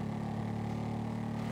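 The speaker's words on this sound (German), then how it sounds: "Motorrad ist laut" A motorcycle engine in GTA runs at a steady, loud idle, a continuous low droning hum with even pitch throughout and no voices.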